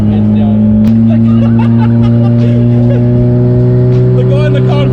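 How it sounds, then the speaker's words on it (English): A Nissan S14 street car with an SR22 engine pulls hard, its loud, steady engine drone holding close throughout, with faint voices underneath. "This is my favourite sounding car now, hands down."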